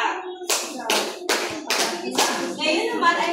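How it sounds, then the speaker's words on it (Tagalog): A class claps in unison, five sharp group claps spaced about every half second, close and loud, followed by a few scattered claps and a voice in a classroom. "Bigyan natin ang bawat isa ng 5 palakpak."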